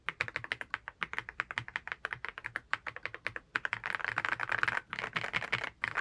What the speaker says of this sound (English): It's very nice to type on these one with the sound of the candy switches.